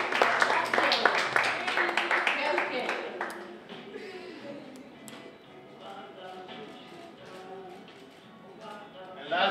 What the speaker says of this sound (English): Round of applause for Kevin.